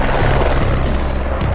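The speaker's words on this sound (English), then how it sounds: "commander, Lieutenant Colonel Roger Barrett, has ordered up heavily armed helicopters" Heavily armed military helicopters fly overhead, their rotors making a loud, continuous, throbbing roar with no pause.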